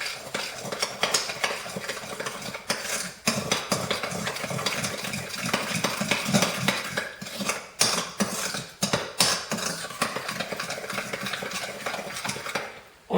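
Homemade yogurt mixture being stirred in a bowl, with powdered whole milk to be added, gives a steady run of scraping and clinking utensil strokes, close and fairly loud, continuing without talk.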